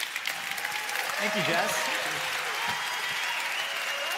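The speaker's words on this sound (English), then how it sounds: "You guys are all applauding Jess." Conference audience applauding at a business talk, a dense wash of clapping that swells then tapers off under a nearby speaker's voice.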